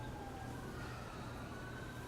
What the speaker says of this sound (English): the emergency sirens are coming to help out